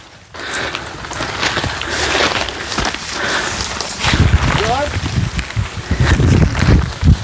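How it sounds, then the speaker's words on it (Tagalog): Gusty wind on a mountain buffets the microphone in rough, rumbling surges, with footsteps and rustling under it and voices talking at times. "Ay, ang mahangin dito ano? Mahangin po dito."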